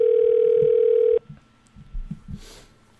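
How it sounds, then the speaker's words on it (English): A telephone dial tone hums steadily for about a second, then cuts off as a call to a flight service station goes through, leaving faint line noise and soft clicks. "And we'll make a call to them real quick."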